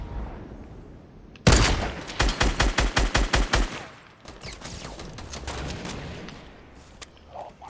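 Rapid bursts of gunfire erupt in a video game firefight, a loud string of evenly spaced shots followed by quieter scattered reports and distant crackle.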